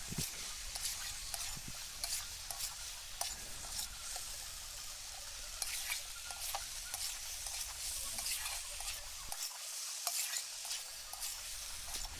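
Pointed gourd pieces fry in mustard oil in a pan, a steady sizzle broken by frequent scraping, clattering stirs of a spatula, close and moderately loud.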